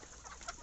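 Native chickens on a poultry farm holding about six hundred birds cluck together in a brief, busy burst of overlapping calls at close range.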